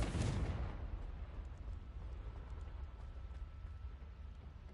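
A Confringo spell blast in the Hogwarts Legacy video game, heard as a loud booming explosion at the start that rumbles and decays into a long low roar.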